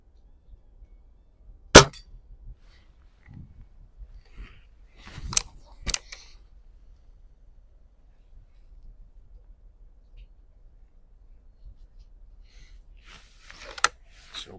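A vintage Remington Vantage 1200 .177 break-barrel air rifle fires a few sharp, separate shots at metal ram silhouettes on a range, with quiet gaps and faint handling noises between them.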